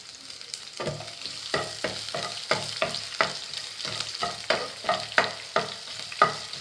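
Onion, green chili and curry leaves fry in hot oil while a spoon stirs them in brisk, regular strokes, each scrape rising over a continuous close sizzle, with no one talking.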